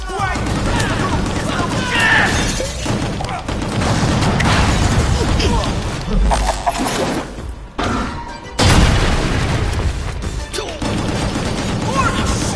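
Missile blasts and heavy gunfire from the action game Gungrave G.O.R.E., with loud continuous booms and crashes layered in a dense, chaotic barrage, briefly dropping out near the middle before resuming at full force.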